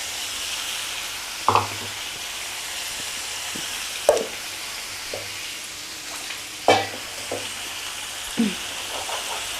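A spoon stirs chili powder into brinjal curry frying in a pan, giving a steady close sizzle broken by several sharp scraping strokes spaced a second or two apart.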